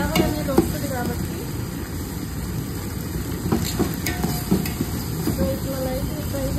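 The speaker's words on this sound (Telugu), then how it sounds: "సో ఇట్లా లైట్గా ఫ్రై చేసుకుందాం." Ginger garlic paste lightly frying in oil for coconut rice, a low steady sizzle with scattered ticks and scrapes of stirring, close and moderately loud.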